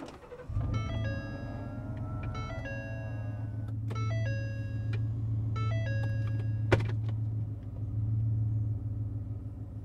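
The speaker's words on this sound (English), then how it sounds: "let's go ahead and start the car and just put it in reverse" A Ford F-150 truck starts and idles with a low steady engine hum while repeated electronic chimes and tones sound from the cabin, followed by a sharp click as it shifts into reverse.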